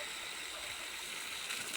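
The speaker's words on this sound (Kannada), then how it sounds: "ಹಿಂಗಾಗಿ ಒಸರಿ ನೋಡ್ರಿ ಇಲ್ಲಿ ನೀರು ಬಂದು ಬಾಯಾಗ ಸೇರ್ಕೋತಾವ್ರಿ ಎಲ್ಲ" Water seeping and trickling into a well after heavy rain, a faint, steady gurgling wash with no voices.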